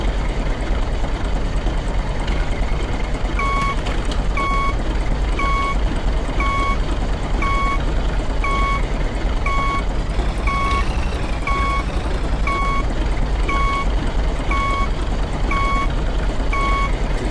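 Farming video game tractor reversing, its backup alarm beeping in a slow, regular series of about a dozen evenly spaced tones over a continuous low engine idle.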